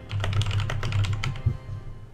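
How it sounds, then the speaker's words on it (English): Rapid keystrokes on a computer keyboard during a game of Town of Salem: a dense run of close, crisp clicks over a low steady hum, with one louder key strike near the end. "I'm typing."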